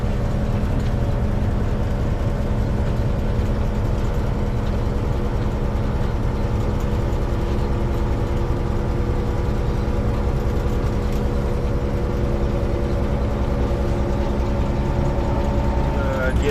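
A 1960s diesel-electric train engine of 825 horsepower running steadily, a continuous low droning rumble with a constant hum, loud and unchanging throughout.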